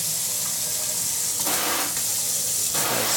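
A Kohler kitchen faucet's spray feature runs water in a steady, close hiss with a few brief surges in the flow, no voices.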